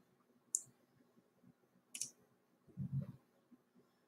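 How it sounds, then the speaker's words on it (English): Computer mouse clicking during a YouTube upload, two sharp, close clicks a second and a half apart, then a soft low thump, in an otherwise quiet room. "Then you can click on these for more options."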